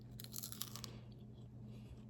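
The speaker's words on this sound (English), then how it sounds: "Listen to that crunch." A crunchy bite into a carnivore-style egg white tortilla shell gives a short burst of close, crisp crackling followed by quieter chewing, faint and with no talking.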